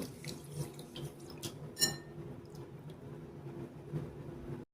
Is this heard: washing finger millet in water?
yes